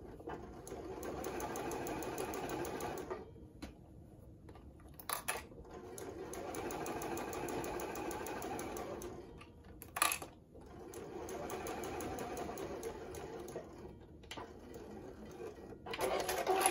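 Sewing machine stitching fabric pieces together for a kickstand project, running in three steady whirring bursts separated by short pauses, close and clear with no talking.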